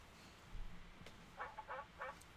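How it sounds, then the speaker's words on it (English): Ducks quack faintly through a baby monitor, coming as a few short nasal calls over a hiss of background noise. "You hear the ducks? They're on the baby monitor."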